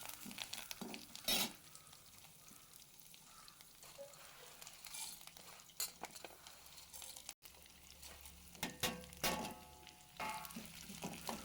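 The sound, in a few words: frying onion and curry leaves for tempering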